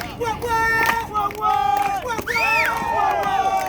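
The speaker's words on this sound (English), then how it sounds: "If you like what you see, make some noise. Everybody clap!" A crowd at a Times Square street show in New York City whoops and cheers loudly, with shouting voices and rising calls over steady crowd noise.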